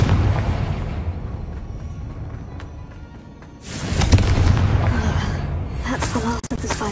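Fiery Confringo spell blasts in Hogwarts Legacy while battling spiders among spider sacks, a deep booming burst erupting midway over low rumbling game ambience, followed by further crackling impacts.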